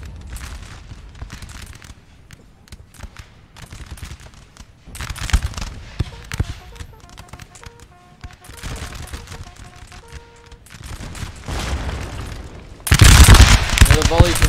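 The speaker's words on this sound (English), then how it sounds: "Another volley from the 12 pounder coming off" Napoleonic-era 12-pounder cannons fire volleys in a Napoleon Total War line battle, scattered booms and crackling musketry building to a loud, dense barrage at the end, with someone talking over the distant gunfire.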